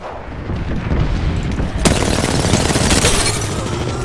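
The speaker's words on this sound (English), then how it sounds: "I am taking fire, friends!" Loud gunfire and booming impacts from the video game Apex Legends, with a sharp crack partway through over a dense, sustained din of battle.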